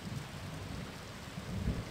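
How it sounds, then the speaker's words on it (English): Steady heavy rain roars throughout, with low rumbles of thunder swelling toward the end. "I got out of the car, into the pouring rain"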